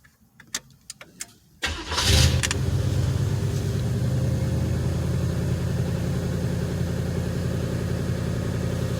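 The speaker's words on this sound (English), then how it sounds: "This is how I start the car, y'all." A 1978 Chevrolet Caprice with a hand-adjusted carburettor: a few sharp clicks, then the engine catches with a loud burst and settles straight into a steady, throbbing idle that runs on to the end.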